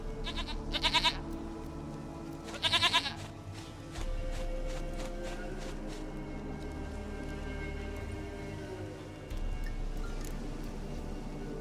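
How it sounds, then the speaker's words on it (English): A goat bleats in The Witcher 3 video game, two short quavering bleats close by, followed by steady ambient game sounds and low rumbles without speech. "Goat of mine, dearest, sweetest goat."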